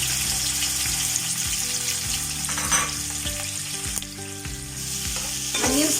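Onions sizzle loudly in hot oil in a home kitchen pan, with constant crackling frying and the scrape of stirring throughout, no talk.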